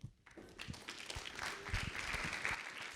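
Conference audience at a developer convention applauds a presenter, starting abruptly and building into moderate steady clapping in a large room, slightly distant.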